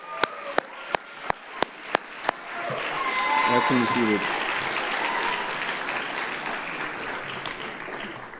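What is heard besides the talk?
audience applause for prefect speakers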